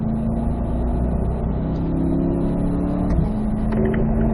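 A Chevrolet C8 Corvette pulls hard on a race track at a performance driving school, its engine droning loud and close with a steady tone that shifts pitch briefly near the end.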